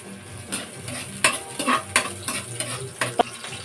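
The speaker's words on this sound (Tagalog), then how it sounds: "So ngayon, sumainit na yung mantika. Lagyan na natin ng bawang." Garlic is dropped into hot cooking oil and stirred, a low steady sizzle broken by sharp clinks and scrapes of a utensil against the pan, close up with no talking.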